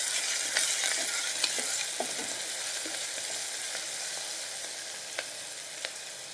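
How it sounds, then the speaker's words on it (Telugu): Onions frying in a pan for a ridge gourd curry, a steady, even sizzle with occasional light stirring taps and scrapes, close and continuous without speech. "ఇలా ఒక 5 minutes ఫ్రై చేసుకోవాలి ఆనియన్స్ని"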